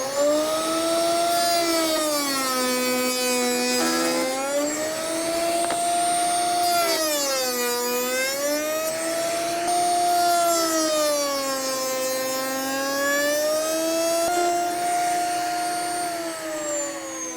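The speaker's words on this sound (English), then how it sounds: "we're going to make our cope cuts, right like this" A router fitted with a bearing-guided bit makes cope cuts along the edge of a board for simple cabinet door fronts. Its loud motor whine rises and sags over and over as the bit bites and eases off across the wood.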